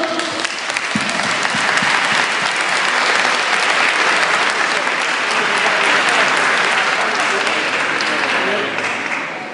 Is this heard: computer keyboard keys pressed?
no